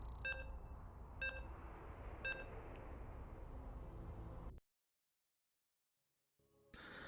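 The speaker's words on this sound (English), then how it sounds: "You can hear the beeps. We are loading into the first game of the series." Three short, bright electronic beeps at even one-second intervals sound over steady game noise as a video game match loads, followed by a sudden cut to silence and a return of background sound near the end.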